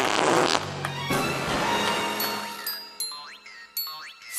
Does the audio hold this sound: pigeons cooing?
no